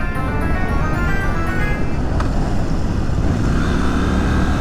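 A Triumph motorcycle rides along a road, its engine a steady, close, continuous drone with wind rush, no talking, a brief sharp tick partway through.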